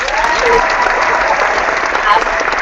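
Applause sound effect set off by clapping during a live cricket-themed hangout, a dense, steady burst of clapping noise lasting a few seconds with voices faintly underneath.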